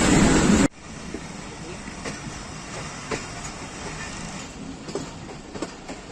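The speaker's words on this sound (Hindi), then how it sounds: "45 पाकिस्तान एक्सप्रेस गुजर खान रेलवे स्टेशन पर शकलाला आमद हो गई है" The Pakistan Express arrives at Gujar Khan railway station, with a loud rush at the start, then a steady low rolling rumble and faint rhythmic wheel clacks as the train moves along the platform.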